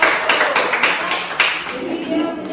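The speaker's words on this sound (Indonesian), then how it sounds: "Beri tepuk tangan." Classroom applause from students, a burst of clapping with dense, overlapping hand claps at steady volume, with a voice faintly mixed in.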